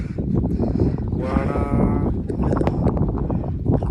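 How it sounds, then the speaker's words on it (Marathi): A grazing flock of sheep in a hilly village area, with one clear bleat rising in the middle over a busy, rustling outdoor background. "सगळी मेंढरं चरते"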